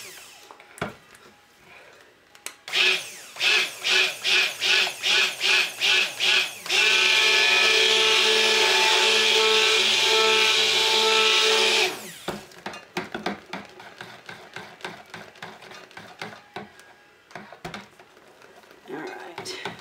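A stick blender mixes soap batter in short pulsed bursts followed by one long steady whirring run, close and loud, with a person talking before and after.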